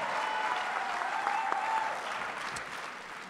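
An audience claps at a political rally in Toulouse for the 2015 regional elections, a steady dense wash of applause that gradually fades near the end, with a few stray louder claps.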